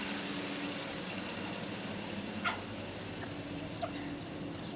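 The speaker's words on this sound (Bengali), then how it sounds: "এই যে দেখেন আমার মুরগির বাচ্চা।" Chicks on a sixth-floor rooftop give occasional faint clucks and cheeps over a steady background hiss, with two brief louder chirps.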